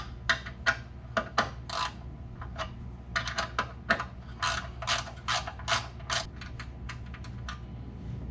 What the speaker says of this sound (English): And wrench is gonna come in handy too.